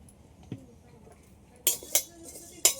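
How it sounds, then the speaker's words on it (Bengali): Whole coriander seeds, peppercorns and cumin hit a dry, empty pan in a few sharp, close rattling clinks spaced apart, with quiet kitchen background between them. "গোটা ধনে, কয়েকটা গোলমরিচ আর জিরে সবগুলো দিয়ে দিচ্ছি একসাথে"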